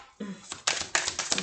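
Tarot cards being shuffled, a series of brisk riffling bursts one after another, close and moderately loud.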